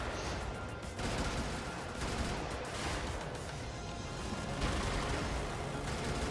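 Dense, continuous gunfire and explosive bursts from the mech combat video game Brigador, layered in a steady chaotic barrage at moderate volume.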